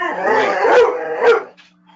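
A dog gives loud, close, drawn-out vocal barks and yips, two strong bursts that trail into a whine before fading to quiet.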